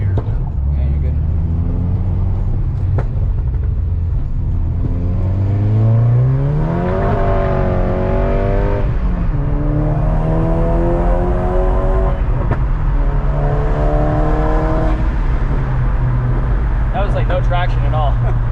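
A tuned VW MK6 GTI on a GET Stage 3 K04 tune accelerates hard, its loud engine climbing in pitch through several gear pulls with close drone and whir, as people talk over it inside the car.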